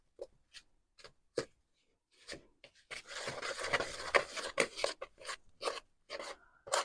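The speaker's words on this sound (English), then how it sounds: "just get your handy pink spatula or equivalent and just give that a bit of a stir through" Pink spatula stirring apple and raspberry muffin batter in a bowl: a few soft scrapes first, then a steady run of close, rasping strokes with faint taps.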